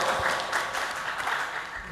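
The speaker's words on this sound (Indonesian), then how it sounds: "beri tepuk tangan yang meriah untuk calon nomor urut 1" Lively applause from an audience at a village head candidate debate, greeting candidate number 1, Bapak Slamet Wibisono: a steady wash of many hands clapping, fairly close and sustained.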